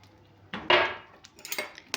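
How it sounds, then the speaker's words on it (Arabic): Dry vermicelli is dropped into a pot of chicken soup with a quick rustling clatter and a few light clinks, close by and brief. "وهسه نضيف الشعري"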